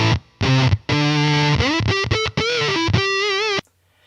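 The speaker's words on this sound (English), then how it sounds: "It's got a built-in fuzz, a really cool clippy fuzz." An electric guitar runs through a VVco theremin pedal's built-in clippy fuzz, giving loud, buzzy, heavily clipped notes and short phrases with sliding pitches and abrupt stops, close and alone.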